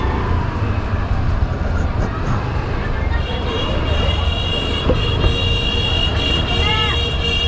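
Busy city street traffic with tricycles and motorcycles passing near a sidewalk parking area, a continuous rumble of engines with passing vehicles, and a horn-like tone late on under the steady roar.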